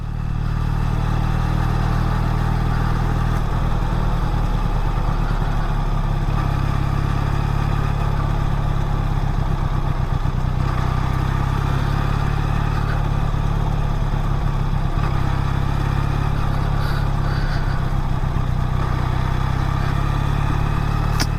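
QJ SRK400 motorcycle engine pulling steadily in fourth gear at about 25 km/h, a loud, continuous low rumble with a close mechanical clatter throughout and no speech.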